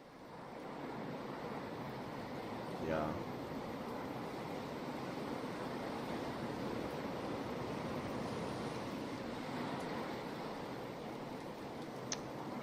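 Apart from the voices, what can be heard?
ocean waves on the coast in Diablo 4, video game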